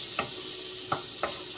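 White butter melts in a pan while a utensil stirs it, giving three soft scraping strokes over a faint sizzle, close by and quiet.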